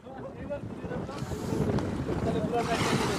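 Gusty wind buffets the microphone on the bank of the Padma river at Moinot Ghat near Nawabganj at night, with waves washing against the shore underneath, a steady broad rush that grows stronger partway through.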